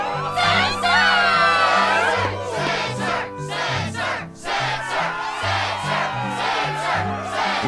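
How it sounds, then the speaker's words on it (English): A game crowd at the Struggle tournament in Kingdom Hearts 2 cheers and whoops in rhythmic bursts over pulsing background music, loud and close, with brief dips between the waves of shouting. "Yes, the crowd is fired up,"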